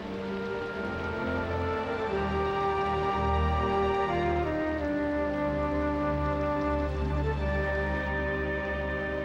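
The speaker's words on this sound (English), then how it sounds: "It wasn't supposed to rain." Steady rain falls over a cartoon setting, a continuous wash of patter mixed under sustained music with no talking.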